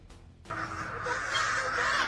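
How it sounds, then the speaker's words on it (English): Thousands of birds massing in the sky over towns in Israel, a dense, continuous chatter of many calls that swells in after a brief quiet start and holds steady and loud to the end, no talk. "Swarm of birds."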